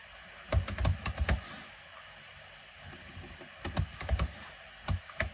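Keys clatter on a computer keyboard while a basic workflow file is typed out, in two quick close bursts of rapid tapping separated by a short pause.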